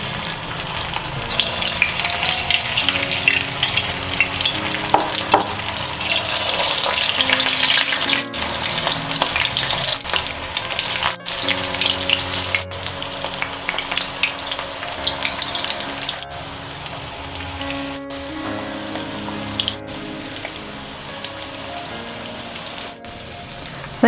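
Bread pakora frying in hot oil, a loud continuous sizzle and crackle that carries on at length, briefly interrupted by a few short breaks.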